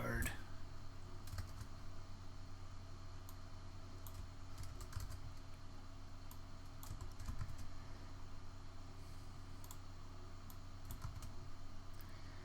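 Rapid clicking of keys on a computer keyboard as a password is entered for a WordPress booking plugin, steady irregular taps over a low hum of room noise and a faint fan.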